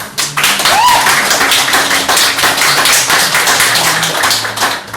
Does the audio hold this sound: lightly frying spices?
no